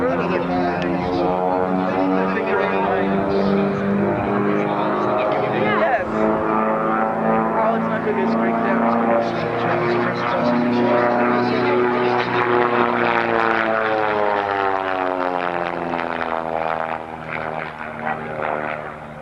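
A propeller aircraft flying aerobatic loops at the 1995 Fairchild Air Force Base homecoming air show makes a sustained droning engine tone that rises and falls, heard steadily under an announcer's continuous commentary.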